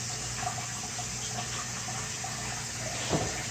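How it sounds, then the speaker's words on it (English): Tap water runs steadily from a sink into an aquarium being filled during a planted-tank cleaning, a continuous low hiss and splash with a brief louder gurgle near the end. "I do fill everything straight from the sink"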